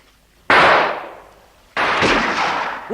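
Two loud, close gunshots in a dramatised ship mutiny, each a sharp blast with a long decaying roar, the second following about a second later.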